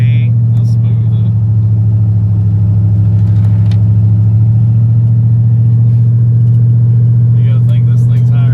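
An LS-swapped Bronco engine pulls steadily through its gears, producing a strong, continuous low rumble that holds even and loud under intermittent talk from people inside the truck.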